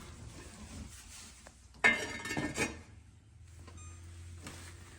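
Metal lid set onto a pan of cooking apples, a bright clanking clatter near the middle, preceded and followed by a soft sizzle and faint kitchen noise.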